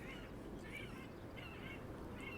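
Faint repeated gull cries sound in a rhythmic series of about five calls over a constant low rumble of background noise.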